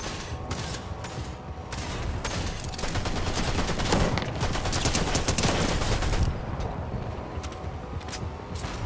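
Dense gunfire rattles through a NitroDrome video game match, rapid overlapping shots forming a continuous loud barrage that peaks midway and then thins slightly.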